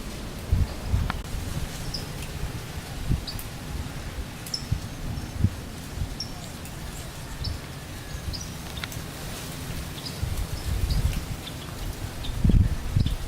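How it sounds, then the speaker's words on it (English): Outdoor rain falling early in the morning, a soft steady patter with scattered drips and rustling, plus occasional faint birds and insects in the background. "I can still see some rain."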